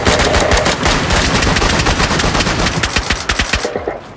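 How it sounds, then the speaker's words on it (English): Rapid bursts of gunfire in the survival video game DayZ, loud and close, dense automatic fire rattling continuously before thinning into separate shots near the end. "Yeah, there's gunshots."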